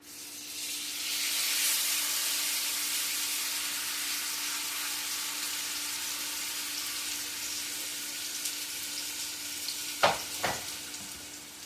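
Steak sizzling in a skillet for a steady, continuous hiss, louder at first and then holding even, with a couple of sharp clatters near the end.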